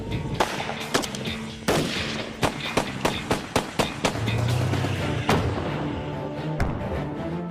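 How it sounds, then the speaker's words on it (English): Gunfire in the open Nevada desert, a rapid irregular series of loud, sharp reports with overlapping shots and echoing tails, some in quick bursts, under a faint rumble of vehicle noise. "The sound of gunfire out here means the sound of freedom."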